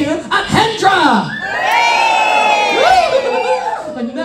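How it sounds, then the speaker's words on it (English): Holiday park audience at a live stand-up comedy show erupts in loud, sustained cheering, whooping and shouting, children's voices among the crowd, rising over a couple of seconds and holding steady. "Everybody's going to cheer because we're on holiday here at Hendra."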